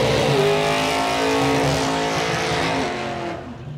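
Cars accelerate hard on a drag strip at the Motorvation Supercruise car event, a loud, sustained engine roar with rising revs and some tire noise that eases off toward the end.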